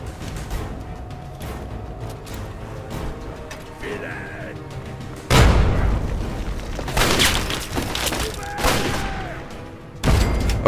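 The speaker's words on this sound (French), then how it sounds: "On va envoyer des grenades frag, hein, ça vaut mieux." Frag grenade explosions and bursts of gunfire in the video game Fallout 3, loud booming blasts and crackling shots in repeated waves over a busy mechanical game soundscape.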